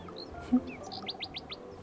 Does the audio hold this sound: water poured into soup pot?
no